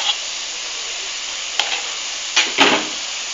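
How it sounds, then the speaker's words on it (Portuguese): Crushed garlic mashed with salt hits hot fat in a pan, a loud, steady frying hiss with a couple of sharper spattering bursts near the end, heard without talk. "Vamos adicionar agora aqui um dente de alho bem socado com sal."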